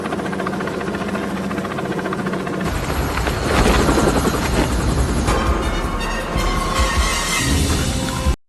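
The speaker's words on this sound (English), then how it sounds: "waiting for Kruger to arrive by helicopter" Loud helicopter flying close by, its rotor chop and engine whine steady and intense, swelling midway before cutting off abruptly at the end.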